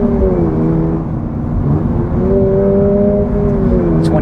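A 2024 Subaru BRZ tS sports car with a manual gearbox drives along, its engine holding a steady, close drone with smooth rising and falling pitch and constant road noise throughout.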